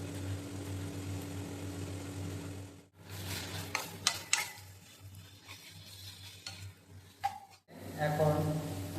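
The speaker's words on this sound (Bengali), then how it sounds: "টমেটো দেওয়ার পর কিছুক্ষণ নেড়ে নেব এবং আরেকটু ভেজে নিচ্ছি।" Tomatoes frying in a pan for a Bengali deshi-style chicken curry, giving a soft steady sizzle broken by a few scraping stir clicks, while someone talks over it.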